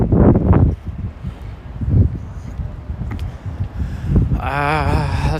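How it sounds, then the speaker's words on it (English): Wind gusts outdoors on a street in Williamsburg, Brooklyn, on a cold day, rumbling and buffeting the microphone steadily throughout, with brief voice-like bursts and a rising whine near the end. "It's so windy."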